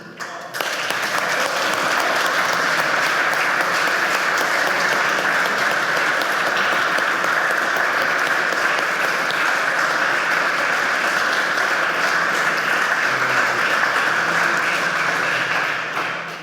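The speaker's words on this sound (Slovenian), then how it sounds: "ki mu boste gotovo tudi ponosno zaploskali" An audience at a municipal council ceremony in Krško applauds, a sustained and even burst of clapping that swells in, holds loudly for about fifteen seconds, then fades.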